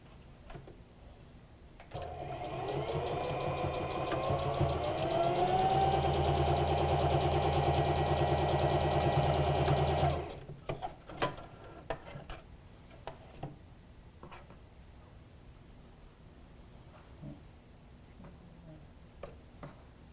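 A sewing machine stitches a fabric COVID-19 face mask, a steady mechanical whirr running for several seconds before stopping, followed by faint handling clicks and taps.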